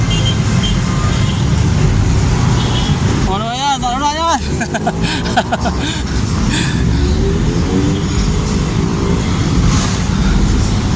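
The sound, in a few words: road traffic noise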